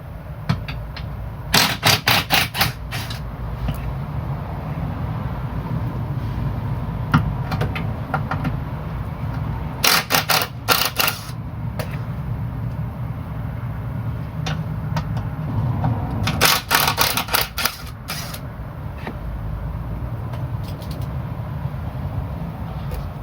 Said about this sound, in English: These bolts that hold the undertray on will come off nice and easy with 15mm